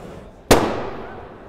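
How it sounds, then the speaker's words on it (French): A motorcycle airbag vest deploys at a two-wheeler show in Lyon in 2022 with one sudden loud burst, followed by a hissing, rushing release that slowly fades over the next second. "je te présente Aymeric qui va se prêter à l'exercice du déclenchement de l'airbag"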